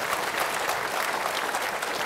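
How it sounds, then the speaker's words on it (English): Audience applause for Czech politician Václav Klaus at a debate, a steady dense wash of clapping filling the whole short stretch at moderate loudness with no break. "come on, a round of applause for Václav"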